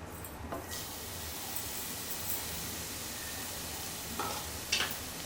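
Freshly ground spice paste frying in about two spoons of hot oil in a pan for bitter gourd curry, a steady even sizzle with faint stirring clinks now and then.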